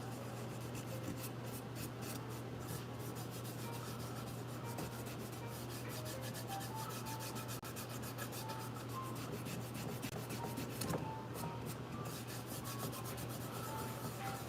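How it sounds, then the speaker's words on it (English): Wood finish being rubbed in by hand, a steady soft scrubbing and rasping texture that runs continuously and fairly quietly, close by, with a low steady hum underneath and no talking. "The more you rub, the more it goes in, and then it'll thin out."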